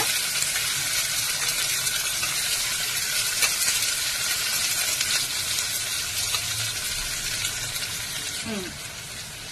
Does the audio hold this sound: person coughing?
no